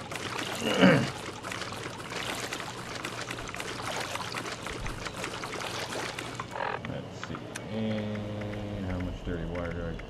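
Water pouring and trickling in Fallout 76, a splashing stream that rises early and carries on under people talking, then gives way to other game sounds.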